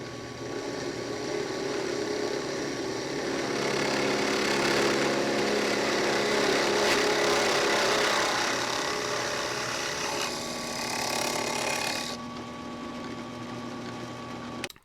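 A Ryobi 10-inch drill press bores through thin wood, roughly an eighth of an inch thick, giving a steady motor whine with a grinding cutting sound that eases near the end before the machine winds down.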